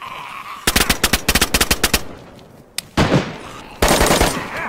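Rapid automatic gunfire in DayZ, a loud close burst of about a dozen evenly spaced shots, then a lone shot and two denser sustained blasts of fire.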